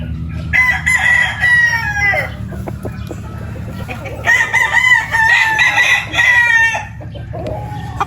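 Gamefowl roosters crow repeatedly at a breeding farm, loud and close, with two long overlapping crowing bouts and clucking and other fowl calls in the background.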